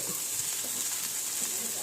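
Greens mixed with coconut, turmeric, green chili and onion go into hot oil with mustard seeds, giving a steady, even sizzle with faint stirring crackles throughout.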